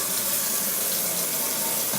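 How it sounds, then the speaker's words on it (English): Tap water runs steadily into a bowl held in a sink, a continuous close splashing hiss with no talking. "Now I want to fill up this bowl with water."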